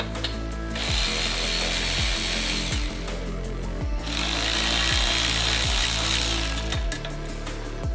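A ratchet wrench loosening 10mm bolts on a Mitsubishi Evo radiator fan, with a loud, rapid mechanical clicking running steadily for several seconds and brief pauses between bursts.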